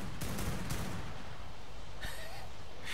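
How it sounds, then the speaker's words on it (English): Point-blank gunfire in the video game Ark comes as a rapid cluster of loud, close shots in the opening second, followed by quieter game noise and a brief rising electronic tone. "some point blank shooting going on there too"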